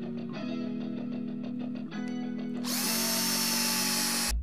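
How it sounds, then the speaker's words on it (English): A power drill fitted with a quarter inch bit whines steadily while boring a hole for a garage door track bracket, its motor pitch rising briefly as it revs, then bursting into a loud, gritty grinding as the bit bites through. "I'm gonna take my quarter inch drill bit. We're gonna put a hole right here for the track bracket."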